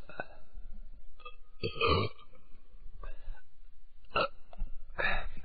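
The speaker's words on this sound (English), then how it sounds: "produces wet burps on the air" Several wet, gurgling burps come one after another at irregular intervals, close and fairly loud, with soft grunting between them.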